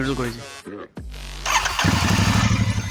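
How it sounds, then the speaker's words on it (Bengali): A Royal Enfield Continental GT650 twin-cylinder motorcycle starts up in neutral and settles into a loud, close, throbbing idle with steady rapid pulses, with someone talking over it at first. "আওয়াজটা দেখো, ইঞ্জিন থেকে আওয়াজটা আসছে,"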